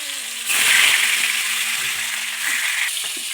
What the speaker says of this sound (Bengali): আমি এবার মাছটা তেলের মধ্যে ছাড়ব।